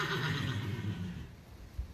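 A horse near a tack room lets out a strong neigh that fades over the first second, followed by quieter ambient stable noise and a faint thud.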